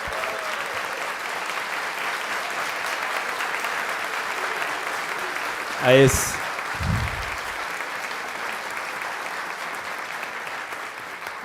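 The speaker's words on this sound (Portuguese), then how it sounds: "peço palmas." Steady audience applause at a civic honorary citizenship ceremony in São Paulo, continuous clapping throughout, with a voice speaking briefly over it midway.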